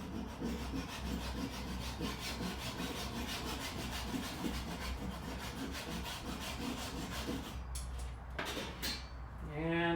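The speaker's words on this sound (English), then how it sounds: "Japanese flush cut saw." Steady back-and-forth strokes of a fine-toothed Japanese flush cut saw cutting wood, close and rhythmic, ending with a few scraping sounds.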